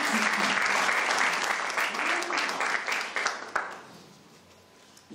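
Sustained applause from an audience at an agricultural conference, a dense wash of many hands clapping close and full before tapering off toward the end, with a voice briefly heard beneath it.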